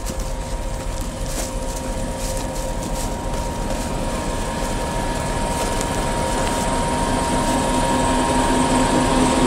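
A passenger train stands at a station at night, its engine and equipment giving off a loud, steady low hum with a faint whine that holds unchanged throughout.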